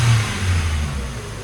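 A Ford Focus engine close by, recently fitted with new parts, holding a brief rev and then easing back down toward idle, a steady mid-pitched drone with no talk.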